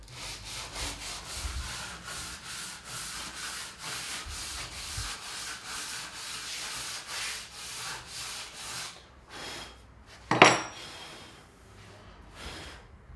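Rubbing strokes back and forth on a laminate countertop edge at an angle, a rhythmic series of close rasping scrapes for several seconds, then a pause, a sharp clatter and a few final strokes.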